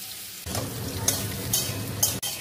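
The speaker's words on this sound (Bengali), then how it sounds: "পেঁপেগুলো কিন্তু ভাজা হয়ে গেছে।" Papaya pieces fry in a pan, a dense close sizzle that starts abruptly and carries on with a few sharp stirring scrapes before cutting off suddenly.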